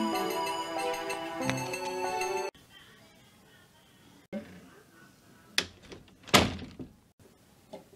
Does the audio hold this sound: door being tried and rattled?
yes